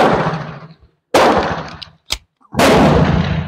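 A .45 Tisas 1911 pistol fired at a shooting range: loud, close sharp reports, about four shots spaced irregularly, each trailing off in a short echoing decay.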